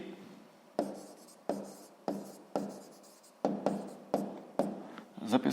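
A pen writes a math answer on paper in a run of quick, soft scratching strokes, each a short burst with a sharp start, close and quiet and evenly spaced.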